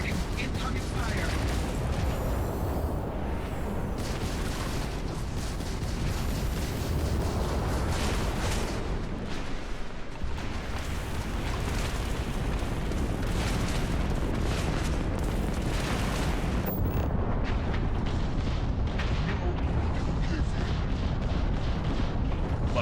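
Incoming weapons fire and explosions batter the player in Starfield, a dense continuous barrage of blasts and booming impacts with rumbling low end, loud and sustained while voices call out over it.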